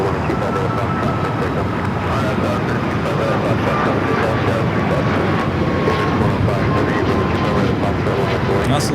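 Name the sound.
aircraft at Los Angeles LAX airport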